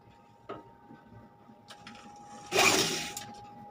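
A sewing machine stitching a blouse runs in short, quiet bursts with a steady mechanical hum, ending in a louder, brief run of stitching.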